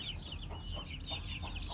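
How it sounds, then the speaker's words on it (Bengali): Hens clucking inside a rooftop chicken house with sand bedding, a run of soft repeated clucks at an even pace, close by and fairly quiet, no speech. "এই হচ্ছে আমার মুরগি"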